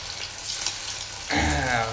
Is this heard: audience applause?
no